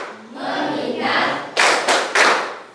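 Hands slap in a rhythmic group clapping routine during a standing focus exercise. A hiss of rustling builds first, then three strong, crisp clap bursts land close together, loud and near.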